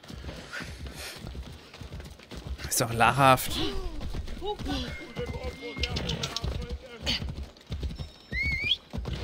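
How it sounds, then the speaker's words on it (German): Rapid hoofbeats clatter in a steady galloping rhythm with a horse's whinny in Assassin's Creed Odyssey, while two people chat over the game sounds. "das Pferd rennt nur ein Müh schneller wie wir"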